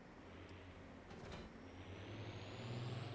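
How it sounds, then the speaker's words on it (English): A small tractor in Farming Simulator 25, driven on the Bavarian Geistal map, gives a steady low engine drone that grows slightly louder over a few seconds. A brief hiss and a rising whine sit above the drone, with no talk. "The noise on this tractor is amazing"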